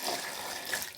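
Water runs steadily into a pot being filled for boiling, a short continuous splashing pour heard close and fairly quiet, with no voices.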